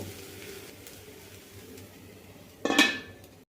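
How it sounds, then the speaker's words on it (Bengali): A metal lid set down onto a cooking pot holding a vegetarian elephant foot yam dish on a low flame, giving one short bright clank after quiet kitchen background. "এটাকে আমি এখন লো ফ্লেমে রেখেই ঢাকা দিয়ে দেব"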